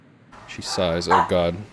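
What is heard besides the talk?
dog barking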